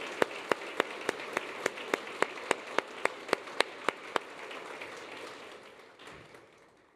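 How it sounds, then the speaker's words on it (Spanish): A church congregation claps in a slow, even rhythm, about fifteen sharp, evenly spaced claps over a soft background murmur, then the clapping stops and the room settles. "Le dan esas palmas"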